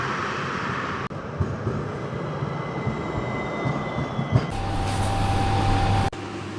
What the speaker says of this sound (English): Tram coming. The number 1.